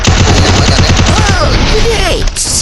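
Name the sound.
gunfire in a video game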